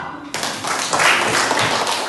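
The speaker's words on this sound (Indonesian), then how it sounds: "Kasih tepuk tangan." Schoolchildren in a classroom clap for a classmate after a poem reading, the clapping starting abruptly after a brief quiet moment and continuing as a busy, fairly loud patter of hands.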